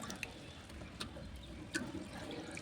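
Gobindobhog rice and moong dal being washed by hand in water, with soft sloshing and trickling, a few brighter splashes standing out from the steady wet background.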